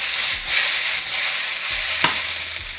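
Onions frying in a pan for baked ratatouille, a steady soft sizzle with occasional scraping stirs and a sharp utensil knock near the end, close and clear.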